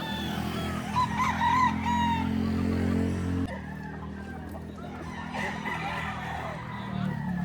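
At a chicken market in Lipa, Batangas, roosters crow repeatedly over a crowd of clucking chickens. The birds sound close and fairly loud, with a background hum and people talking nearby.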